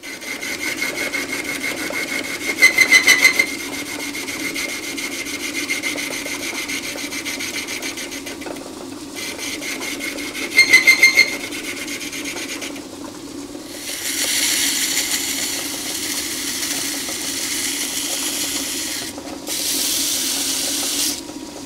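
A 1931 South Bend lathe undercuts threads on a faceplate, giving a steady motor hum with a high whine. Two short bursts of cutting chatter sit over it, and the scraping noise brightens and grows louder later on. No one talks.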